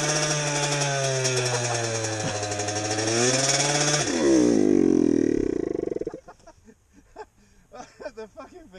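A CBR DRZ 600 hybrid motorcycle engine revs hard and close, its loud buzzing roar climbing then dropping away, followed by a voice talking briefly as the engine settles.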